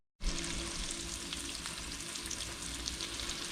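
Beer brats frying in a pan give a loud, continuous sizzle that starts abruptly and holds steady with fine crackling spatter, close by, with no talking.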